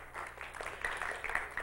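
Church congregation clapping and cheering during a sermon, a brief burst of mixed applause with scattered shouts, fairly close and lively.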